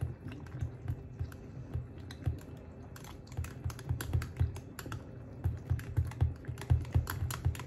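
A plastic knife stirs an apple cider vinegar mixture in a container, making a steady run of quick light clicks and taps at close range, with no talk over it.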